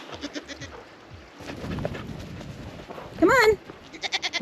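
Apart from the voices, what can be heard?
goats bleating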